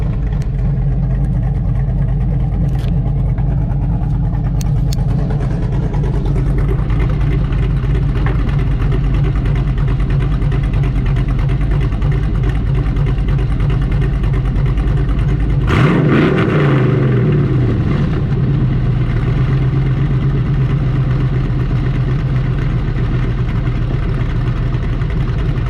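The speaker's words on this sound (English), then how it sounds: "just give it a little snap of the throttle before I cap it off" A cammed LQ4 V8 in a Silverado pickup idles with a loud, lumpy burble through open exhaust cutouts, then one sharp throttle snap flares into a brief roar and drops back to idle.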